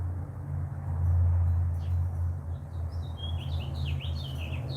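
Birds chirp faintly in the background outside a house in spring, a few scattered high tweets in the later seconds over a low steady hum.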